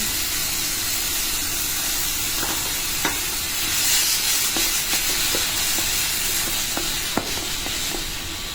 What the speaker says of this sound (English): And then we'll add our tomatoes and carrots that we chopped to our pan.